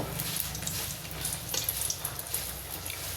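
Tel pitha, oil cakes, fry in hot oil in a wok, giving a steady close sizzle and crackle with a few louder pops and a low background hum, no one talking.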